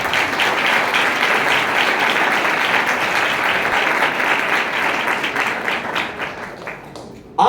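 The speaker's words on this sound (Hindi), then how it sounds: "तालियां बजा सकते हैं।" An audience at a Christmas sermon claps in celebration, a loud, dense and sustained burst of applause that tapers off near the end before a sudden sharp sound cuts in.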